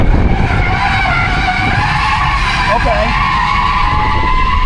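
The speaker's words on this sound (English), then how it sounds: "I guess I'm just gonna turn in and start doing a donut." A Tesla drift car spins a donut, its tires skidding in one loud, sustained squeal that holds steady throughout, with a brief word spoken over it.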